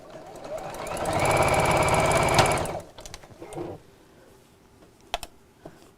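A sewing machine sews a Christmas apron in one loud rapid burst of stitching lasting a couple of seconds, followed by a few faint clicks and handling sounds.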